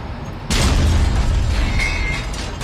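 A tank cannon fires in the IL-2 combat game, a sudden loud boom that drops into a sustained low rumble and mechanical noise lasting several seconds.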